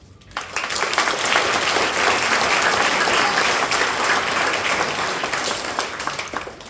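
A graduation audience breaks into loud, sustained applause that swells within the first half second and holds steady for several seconds before tapering off slightly, with no talking over it.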